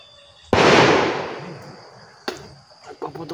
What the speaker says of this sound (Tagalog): Nagpaputok na naman.